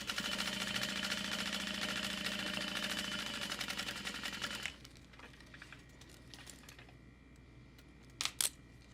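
A sewing machine stitches zipper tape face down along its top edge with a 3/8 inch seam allowance, a steady close mechanical whirr running for about five seconds before stopping, followed by quieter handling noises and a couple of brief clicks.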